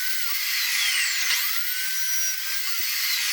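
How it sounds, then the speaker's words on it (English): A saw fitted with a steel cutting blade slicing through aluminum, a steady loud high-pitched whine with a shifting screech, close and continuous. "I'm just using my steel cutting blade, because like I said, you can use regular carbide or wood or even a steel blade on aluminum"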